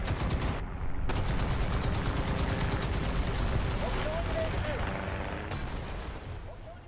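A heavy machine gun on a Japanese tank in War Thunder fires at aircraft in long, rapid continuous bursts, loud and close, with two short pauses between strings of shots.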